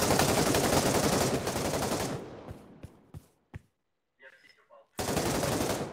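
Rapid automatic gunfire in a shooter video game rattles loud and close for about two seconds, trails into a few scattered single shots and near-silence, then a dense burst of firing resumes.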